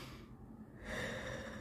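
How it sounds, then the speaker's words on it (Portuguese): A sermon speaker breathes out audibly into the microphone: a soft airy exhale followed by a stronger, rushing breath that lasts about a second, with no words. "essa respiração, esse ar que sai daqui, não é nosso, é de Deus"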